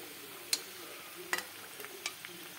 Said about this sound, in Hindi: बीच में चलाते हुए इसे लो फ्लेम पर फ्राई होने दे।